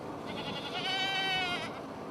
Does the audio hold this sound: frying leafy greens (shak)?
no